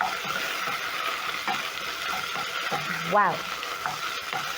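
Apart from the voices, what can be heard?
stirring searing pork in a pot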